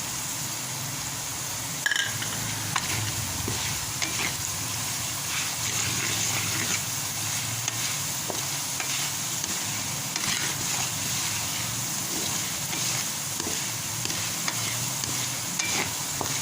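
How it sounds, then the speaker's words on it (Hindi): Potatoes and cumin seeds frying in oil over a low flame, a gentle steady sizzle with intermittent stirring scrapes and a small clank near the start, heard close with no speech. "कम आँच पे हम इसको फ्राई कर रहे हैं"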